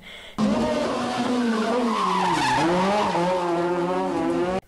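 A rally car's rear wheels lock under a hydraulic handbrake on a hairpin, tires squealing in one long, loud skid with the engine revving underneath, sustained for several seconds before cutting off abruptly.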